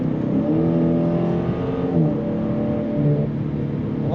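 A 2023 Dodge Challenger SRT Scat Pack Shakedown Special Edition V8 pulls hard under throttle, a deep engine roar climbing through a gear change near the middle and rising again, loud and sustained.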